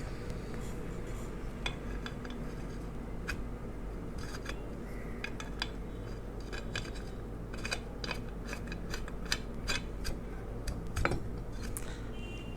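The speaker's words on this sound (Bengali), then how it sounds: "দেখো এই দুটোকে আমরা দুটো নাট দিয়ে আটকে দিচ্ছি।" Small metal clinks and scrapes as two nuts are fitted to fasten a pipe vise in a fitter's workshop, with irregular light taps over a steady low hum.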